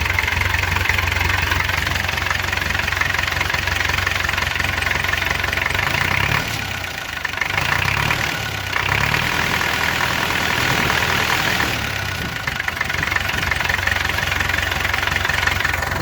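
A vehicle engine idles steadily with a cap fitted on the exhaust pipe, a loud, close, even rumble with a couple of brief dips in level partway through.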